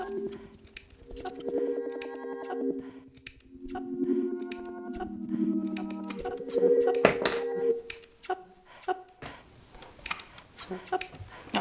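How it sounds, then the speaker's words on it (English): Scissors cut along the seams of a very old pair of underwear. Repeated crisp snips and rustling fabric come in quick runs, with a voice talking in between. "So you want to cut along the seams."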